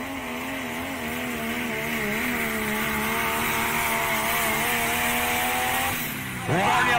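A pulling truck at a truck pulling event, its engine droning steadily with a wavering rising pitch over several seconds, then backing off before a sharp rev, with a voice over it.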